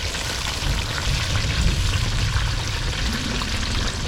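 Sweet potato chips frying in hot oil during an outdoor cook, a steady dense sizzle with low bubbling rumble running continuously at close range, no voices.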